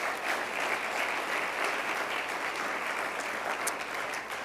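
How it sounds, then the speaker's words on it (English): An audience at a neighborhood conversation event applauds a state representative and state senator, a full, steady round of clapping from a crowd with a few brighter claps near the end. "Please give them a round of applause."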